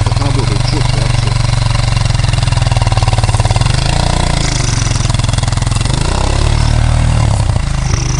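A small engine runs steadily nearby, a loud buzzing idle with slight rises in revs, while voices talk over it.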